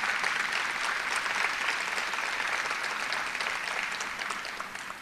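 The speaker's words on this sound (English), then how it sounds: "If you could clap for them," Clapping from an audience at a city meeting honoring school district employees, a steady round of applause that gradually thins and fades over about five seconds, with no talking over it.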